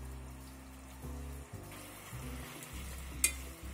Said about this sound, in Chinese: 用一把勺一双筷子就这样挑